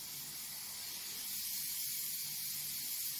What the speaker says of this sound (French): on se munit de sa colle en spray. Et donc, on va venir imbiber nos sapins.